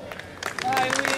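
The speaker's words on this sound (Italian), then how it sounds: "Accogliamolo con un grandissimo applauso Luigi, perché se lo merita" An audience applauding a local poet called to the stage at an outdoor music event, clapping that rises quickly into a dense burst, mixed with a presenter speaking.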